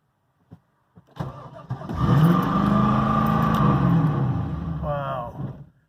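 A fourth-generation LS1 Camaro SS V8 cranks briefly, then catches and settles into a loud, high, steady racing idle that holds for several seconds before cutting off, with a voice speaking briefly over it.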